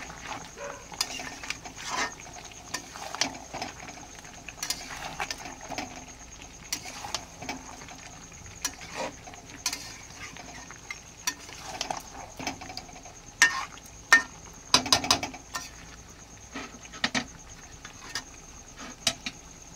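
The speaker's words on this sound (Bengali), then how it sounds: "তারপরে দিয়ে দেবো ভেজে রাখা আলুগুলোকে দিয়ে ভালো করে নেড়ে চেড়ে ঢাকা দিয়ে দেবো।" Fried potatoes are stirred into a mutton curry, producing faint, scattered scrapes and clinks of a utensil against the pot over a soft background sizzle.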